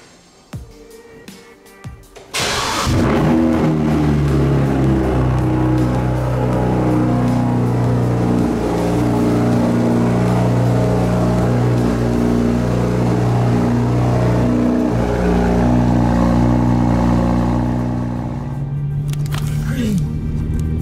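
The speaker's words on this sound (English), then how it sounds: "let's start the video off with a little bit of a cold start" A BMW 135i fires up from cold after a few seconds of quiet shuffling, its engine catching with a sharp burst and then settling into a loud, steady, rumbling high idle that eases slightly near the end.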